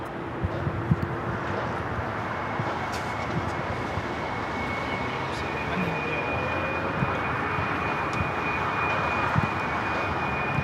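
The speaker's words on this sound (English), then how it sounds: "Air Mexico zooming along on the 24 left there on the north side." A jet airliner bound for Mexico City rolls down the runway at Los Angeles airport, a steady broad engine roar that swells slightly and holds throughout, mid-distance, with wind noise over the microphone.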